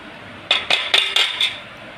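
Metal spoon tapping a cooking pot as ground cardamom is added to sago kheer, five bright quick clinks in a row, close and clear with no talking.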